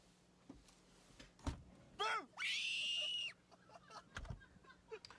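A woman lets out a shrill, wavering scream during a scare prank, a couple of seconds long and loud, set among thumps, shuffling and brief voices.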